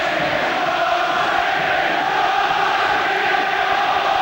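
A football crowd roars at Barnsley during the 1998 FA Cup fifth round replay against Manchester United, a dense, steady wall of cheering that holds throughout with no clear breaks.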